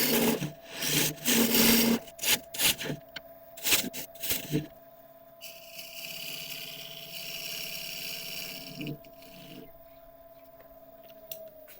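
A woodturning tool cuts a recess into a thuya burl workpiece spinning on the lathe, giving bursts of scraping and rasping, then a steadier hissing cut over a constant motor hum.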